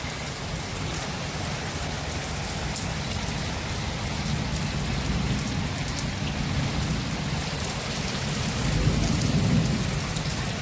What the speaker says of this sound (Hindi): तो हर बारिश हो ही रही भाई